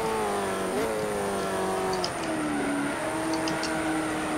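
A Ford GT40 engine in the Simraceway racing game drones steadily and loudly, its pitch stepping down and sliding as it shifts gears, with faint chirps above.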